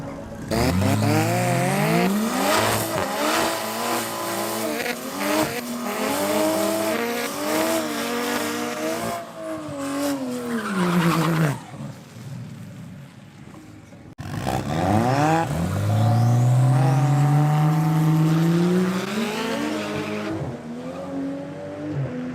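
A drag racing car roars down the strip with loud rising engine revs that climb in pitch gear after gear, a short lull, then another surging full-throttle run close by.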